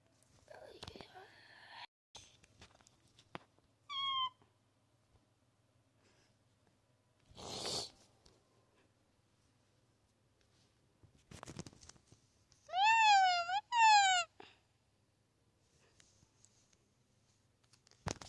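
Game cat from Luigi's Surgery meowing twice in quick succession near 13 seconds, with a brief higher mew earlier, amid sparse clicks and faint whispery sounds.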